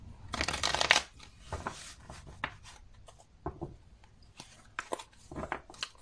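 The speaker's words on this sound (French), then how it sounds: "On va aller brasser les cartes." Tarot cards are shuffled on a table in a run of close, crisp riffling bursts and soft slides, irregular and separated by brief quiet gaps.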